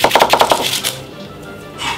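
Quick, close knife chops through a red onion on a board, about six rapid strokes in a steady rhythm, then a quieter stretch ending with a faint scrape, no speech.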